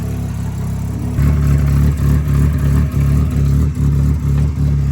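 A cheap project car with a bad exhaust leak idles and then revs in repeated short bursts, a loud rumbling engine with rising and falling pulses close by.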